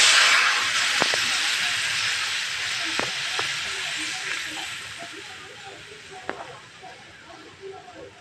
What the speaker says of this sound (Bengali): এটা দিয়ে এখন আমি ওটার মধ্যে ফোড়ন দেব। দেখো এটা ফোড়ন দিয়ে দিচ্ছি।